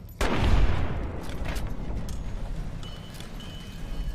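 Rifle gunfire in the video game Fallout: Tale of Two Wastelands, a loud shot with a booming blast that rolls into a long echoing tail and fades under steady game ambience.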